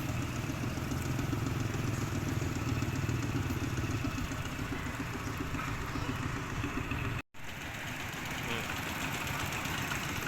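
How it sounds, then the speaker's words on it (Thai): A steady, rattling tractor engine chugs at idle close by in rural Laos, with a brief dropout near the end before the clattering hum resumes. "มีแต่รถอีแท็กเนี่ยแหละพี่น้องรถไถ"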